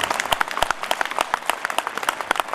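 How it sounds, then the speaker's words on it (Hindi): Audience applause at a school annual day celebration, a dense run of scattered claps from a crowd, steady and moderately loud throughout with no voices on top. "अगर ताली बजानी है तो चंगी तरह बजाओ"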